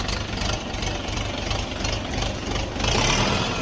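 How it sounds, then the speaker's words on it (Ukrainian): Orion RF-404 mini tractor with a four-cylinder engine, running at a steady idle with a rhythmic low knocking throb, close and fairly loud, swelling slightly toward the end. "Відвантажимо тракторця Оріон РФ-404."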